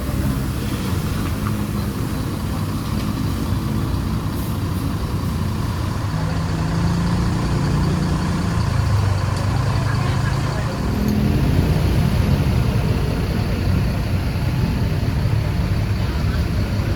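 Sinar Jaya buses idle and pull through a departure bay at a terminal, a loud, continuous low diesel rumble that swells as one moves, with some voices in the background.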